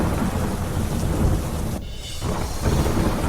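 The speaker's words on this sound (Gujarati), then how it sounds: "અમદાવાદમાં ભારે વરસાદ." Heavy monsoon downpour in Ahmedabad with thunder, a dense steady roar of rain that briefly thins for a moment before surging back, loud and continuous with no voices.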